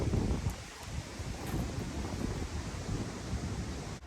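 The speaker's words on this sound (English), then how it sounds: "It's so windy out there." Strong wind roars and gusts against the microphone, a dense, rumbling rush of noise that surges and eases without pause.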